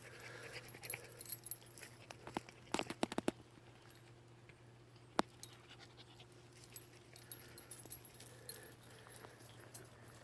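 Dogs in a yard beside a camper van pant quietly and faintly, with occasional light jangling and small clicks scattered through an otherwise still background.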